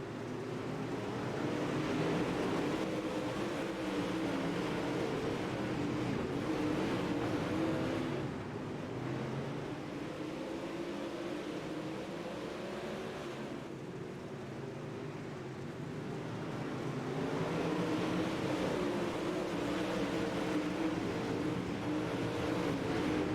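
Race cars roar around the UDRA dirt track during the Amsoil High Noon Cherry Pickin 50, a continuous loud engine drone with rising and falling revs as several cars pass, no talk.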